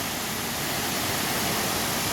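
Broadband steady rushing of a river flowing near waterfalls in Ao Nang, continuous and loud with no pauses or voices.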